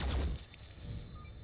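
Gunfire in the Phoenix Point tactical game during a quick aimed shot, a loud burst at the start followed by a rumbling, crackling tail, with no speech.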